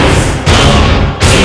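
Gunshot sound effects in a TV crime drama: two loud, heavy booming thuds about three-quarters of a second apart, each with a broad burst and a short tail.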